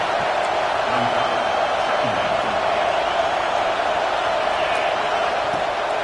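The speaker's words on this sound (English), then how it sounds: "This crowd bringing the energy and noise early." A football stadium crowd roars as a steady, dense wash of noise throughout, with a voice faintly audible in the mix.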